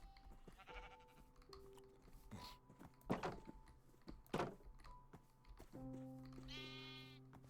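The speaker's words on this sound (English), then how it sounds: "Sheep are like one of the best things to have in Minecraft now because of the meat they produce" Minecraft sheep bleat several times amid game sounds, with a few short quavering cries and soft thumps spread over several seconds, faint and distant.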